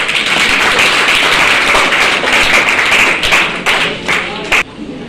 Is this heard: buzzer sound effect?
no